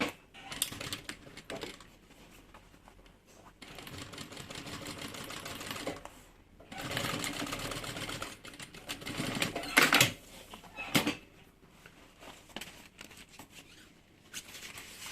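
A sewing machine topstitches a fabric bag in close, rapid rattling runs, stopping and restarting several times with short quiet gaps and a few clicks between stretches of stitching.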